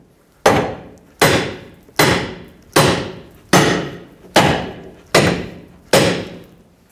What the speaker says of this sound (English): So we have to tap the control arm to get the ball joint to break free.